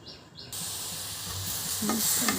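Milk sweetened with jaggery stirring and heating in a pot on a stove: a steady low sizzle and bubbling hiss with a few soft scrapes of a spoon against the pot, close and fairly quiet.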